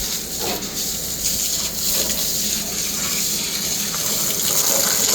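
Plain water from a drain-jetting hose is run into a blocked drain to break up the blockage, a loud, steady rushing gush that carries on throughout without talk.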